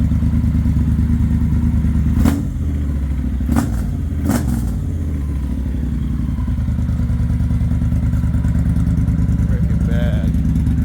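A Triumph Speedmaster 1200 motorcycle with thermal header wrap runs at a loud, steady idle close by, with a few brief clattering knocks partway through.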